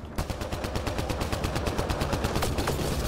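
Rapid automatic gunfire in the sci-fi shooter Mass Effect Andromeda, a fast steady rattle of evenly spaced shots, close and continuous for the whole stretch.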